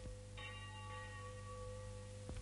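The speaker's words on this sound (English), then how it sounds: "Church bells were ringing, calling the devout Belgian people to early mass." Church bells ring in an early Belgian morning near the town of Mons, a faint, sustained metallic tone with lingering overtones under a low steady hum.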